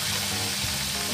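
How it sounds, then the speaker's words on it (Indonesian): Fish frying in oil in a nonstick pan gives a steady, close sizzle that holds level throughout, with no pops or bursts. "kita lanjutkan menggoreng seperti tadi"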